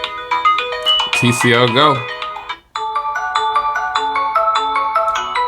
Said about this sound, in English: you can do custom ringtones up here as well